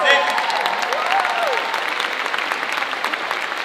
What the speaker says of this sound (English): Give a round of applause for our dance team